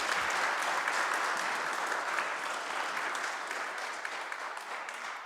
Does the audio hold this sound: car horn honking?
no